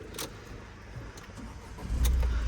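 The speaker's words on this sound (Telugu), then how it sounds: "ఒకసారి టెస్ట్ డ్రైవ్ చేద్దాం దీన్ని" A car engine cranks and catches before a test drive, with faint clicks and a brief key jingle first, then the starter whirs and the motor fires into a loud, close idle near the end.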